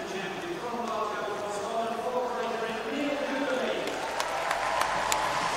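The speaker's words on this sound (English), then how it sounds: "getting a big cheer from the home crowd here." A home crowd at an indoor European athletics championship cheers and applauds for British runner Neil Gourley, a dense, steady roar of clapping and voices filling the arena while a commentator talks over it.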